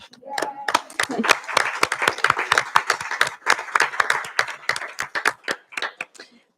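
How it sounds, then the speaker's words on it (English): Council meeting attendees break into a round of applause, many hands clapping in a dense, uneven patter that holds steady and then tapers off, with a voice speaking over it. "here we're going to clap."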